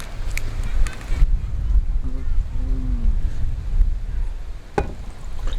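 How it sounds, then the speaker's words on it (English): Outdoor wind buffets the microphone in low rumbling gusts, rising and falling, with a brief faint tonal moan midway and a few sharp clicks. "there's a lot of wind"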